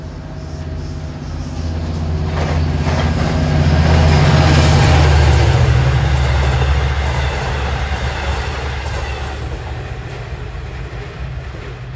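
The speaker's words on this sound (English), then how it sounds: "For 556, this is a Jamaica Oyster Bay train. He has engine 408, DE30AC." An LIRR Jamaica to Oyster Bay train hauled by DE30AC diesel engine 408 passes at a newly built station, its deep engine rumble swelling to a peak midway, then wheels rolling on as it moves off.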